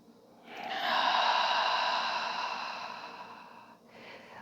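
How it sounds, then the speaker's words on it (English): A single long, breathy exhale through an open mouth during a yoga breathing practice, swelling up soft and steady, then fading out after about three seconds. "Open mouth, exhale."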